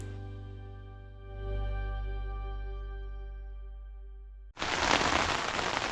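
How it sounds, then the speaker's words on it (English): Heavy, lashing rain at a tent campsite breaks in abruptly as a loud, steady broadband hiss after a long sustained musical tone fades out. "When we woke, it was lashing rain."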